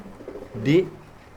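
A single pigeon coo rises briefly at a pigeon farm, clear and close against a quiet background with faint low murmuring.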